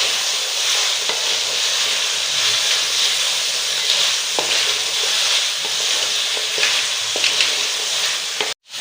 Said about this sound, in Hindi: अब इसे अच्छी तरह भून लेंगे।